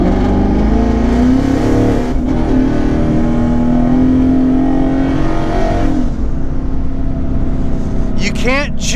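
A loud, close twin-turbo 2019 Ford Mustang GT engine revs hard while passing, its pitch climbing steadily before dropping off, then a brief high squeal near the end.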